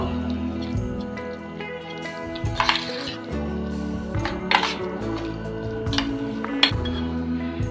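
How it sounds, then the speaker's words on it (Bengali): Minced chicken being worked together with garam masala and salt in a bowl, giving soft wet squishing and occasional clinks of a utensil against the dish, steady and close with no talking. "মশলার সাথে চিকেনটা ভালো করে মিশিয়ে নিচ্ছি"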